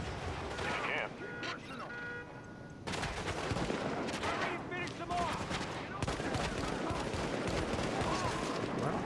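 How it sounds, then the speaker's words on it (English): Rapid gunfire from the video game Tom Clancy's The Division on Xbox, with dense, sustained bursts and crashes that pile up loudly through the whole stretch. "I'm getting shot at."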